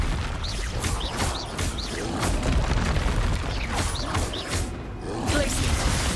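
Repeated blasting spell explosions in the video game Hogwarts Legacy, booming bursts and crackling impacts recurring in quick succession amid combat whooshes.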